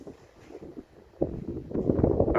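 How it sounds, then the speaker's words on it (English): Gusty wind blowing outdoors over a microphone at a home workspace with concreting underway, low rumbling buffets that start faint and swell into stronger, louder gusts partway through. "Pretty windy actually."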